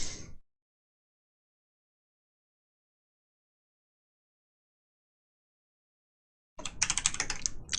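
Close, brisk typing on a computer keyboard bursts in after a long stretch of silence, with a very short clatter of keys at the start.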